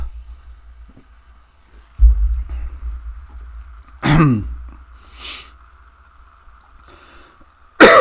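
A man on a game livestream coughs and clears his throat in a few loud, sharp bursts spread across otherwise quiet stretches.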